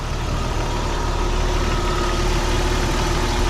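A Jeep Cherokee engine running at idle with the AC compressor engaged, a loud, constant close-up drone with a faint steady whine over it and no talk.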